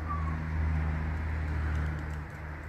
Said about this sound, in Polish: 30 gołębi